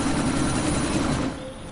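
A video game helicopter drones loudly and steadily with a thick low rotor hum and broadband engine roar, then fades somewhat near the end.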